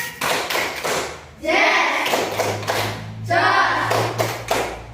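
A classroom of pupils performs a rhythmic clapping chant, tepuk semangat, with patterned bursts of claps and taps mixed with children's chanting voices at close range.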